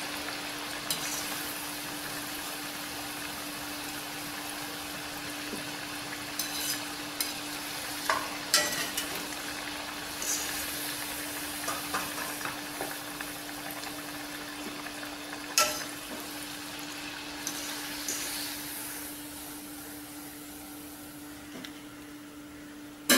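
Semolina vadas frying in hot oil in a pan, a continuous crackling sizzle at moderate volume with occasional sharper pops and spoon scrapes as the fritters are turned, no talking.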